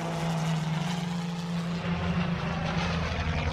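A steady propeller airplane drone from a video game holds at constant loudness throughout, with a low engine hum underneath.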